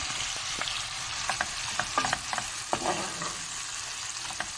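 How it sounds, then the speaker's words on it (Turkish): Ground beef frying in a pan gives a steady close sizzle with scattered light scrapes and taps of a utensil stirring the meat. "kıymalarım kavruldu"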